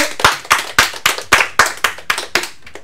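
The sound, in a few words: audience applauding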